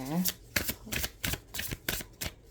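Tarot cards being shuffled by hand, a quick series of about seven crisp riffling bursts in steady rhythm, close and clear, with a short vocal sound at the very start.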